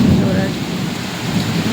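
Thunderstorm with heavy rain in Bhubaneswar: a steady roar of rainfall on surfaces with low, rolling thunder rumbling underneath, loud and continuous.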